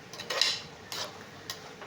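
A few light metallic scrapes and clinks from a spoon stirring avial ingredients (ground coconut, garlic, green chili, cumin and turmeric) in a cooking pan, brief and close in a quiet kitchen.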